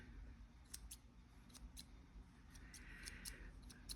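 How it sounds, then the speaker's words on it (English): Scissors trim short stringy fibres and pilling from worn fabric, producing quiet, crisp snips in a loose irregular series, close up against a faint background hum. "And so like all of these little stringy things, I just trim them short. Trim, trim, trim."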